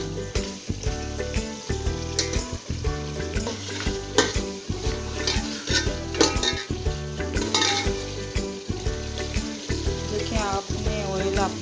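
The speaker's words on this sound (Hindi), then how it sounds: "अब अच्छे से फ्राई होगी।" Pota kaleji sizzling steadily as it fries in oil in a pan, with a spoon stirring and scraping against the metal throughout, close up and loud.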